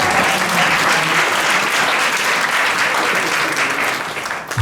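A church congregation at a Sunday service applauds steadily, a dense, loud wash of clapping from many hands that holds evenly throughout and fades slightly at the end.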